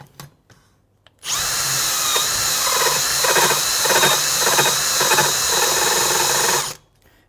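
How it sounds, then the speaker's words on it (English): Power drill spinning a vibrating stone cutter on a Moto Guzzi Le Mans valve seat: a steady high whine with a rhythmic grinding chatter, starting abruptly and running about five seconds before cutting off, close and loud. "hear it vibrating on the stone"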